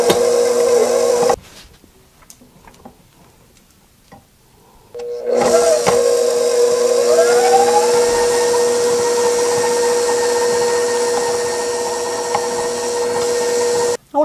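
An electric hand mixer whirs through softened butter, creaming it with a steady high motor whine that stops for a few seconds, then restarts and runs continuously, its pitch shifting slightly as the load changes.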